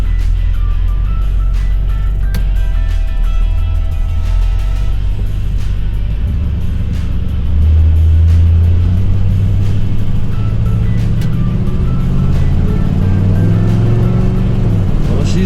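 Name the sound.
1971 Buick Skylark engine during test drive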